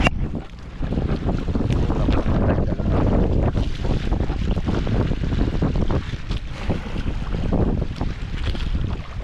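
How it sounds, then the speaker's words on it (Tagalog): Strong wind roars across a small fishing boat out at sea as a storm approaches, with steady, loud buffeting on the microphone and waves washing around the hull, no voices. "palakas na ng palakas ang hangin"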